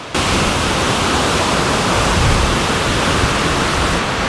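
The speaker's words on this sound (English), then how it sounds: "In the middle of the wilderness, we found some beautiful, incredible, magical waterfalls" A waterfall in the Pacific Northwest wilderness roars as a steady, close, loud rush of broadband water noise, unbroken throughout.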